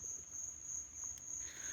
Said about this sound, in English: Crickets are out in force tonight